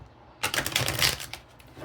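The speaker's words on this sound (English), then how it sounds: "I'm going to just shuffle here" A short burst of tarot cards being shuffled, a quick riffling flutter lasting about a second, close up.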